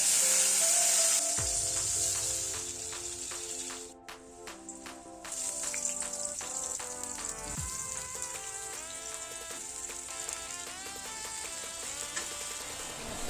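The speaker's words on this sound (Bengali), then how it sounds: "তারপর একে একে উচ্ছে, কলা, বেগুন হলুদ লবণ দিয়ে ভেজে নিই।" Slices of bitter gourd, plantain and eggplant, seasoned with turmeric and salt, fry in oil in a kadai, a soft, steady sizzle running beneath louder background music throughout.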